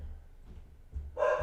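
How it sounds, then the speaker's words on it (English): Two dogs bark at close range in a home setting, a low muffled thump of sound followed by a sharper, louder bark burst at the end. "Sorry about the dogs"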